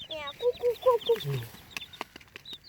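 Chickens cluck in short repeated calls near and fairly clear, followed by scattered clicks and rustles; a faint voice murmurs in the background.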